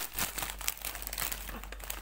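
A plastic bag is crinkled and torn open at close range, giving a busy run of dry rustling and crackling with no speech over it.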